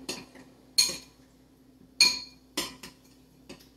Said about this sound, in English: Let's add a little bit more oil so we have a little bit more of that dressing-like consistency, okay? And give that a good stir again.